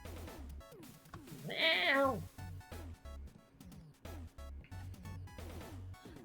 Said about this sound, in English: that is a spooky cat